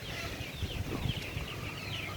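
Chickens on a small farm clucking softly, a few scattered calls over a steady low background hum, faint and somewhat distant.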